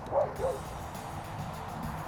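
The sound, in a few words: dog barking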